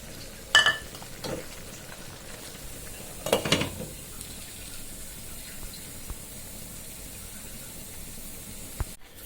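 Chopped tomatoes go into a pan of frying taro stolons: two short clattering bursts as they land, then a low, steady sizzle that continues quietly to the end, with no one talking.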